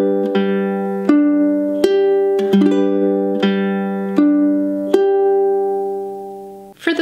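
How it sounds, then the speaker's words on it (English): A ukulele fingerpicks an arpeggio pattern for a song at song tempo, clear plucked notes in a steady repeating rhythm, close and alone with no talk. "As we bring this pattern up to the tempo of this song, it sounds like this."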